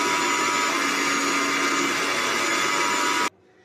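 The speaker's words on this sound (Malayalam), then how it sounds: "ഇനി വെള്ളം ചേർത്ത് ഇതൊന്ന് അരച്ചെടുക്കാം." A kitchen mixer grinds grated coconut with cumin, turmeric and water into a paste for erissery. Its loud, steady whirring motor runs without a break, then cuts off abruptly near the end, leaving near silence.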